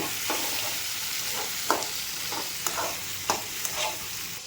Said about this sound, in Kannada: ಈಗ ಶುಂಠಿ ಬೆಳ್ಳುಳ್ಳಿ ಹಾಕೊಳ್ಳೋಣ right to left left to right ತಿರುಗಿಸೋಣ